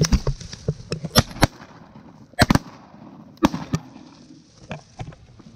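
A volley of sharp shotgun blasts, several in quick pairs, rings out during a duck hunt for mallard greenheads and pintails, loud and close against quiet outdoor background.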